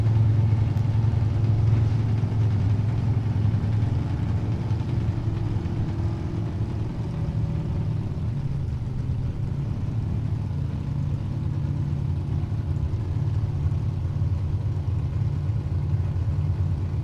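Chevrolet Nova drag race car idling down the racetrack, giving a steady, low, rumbling engine note at a distance that holds throughout with little change, and no talking.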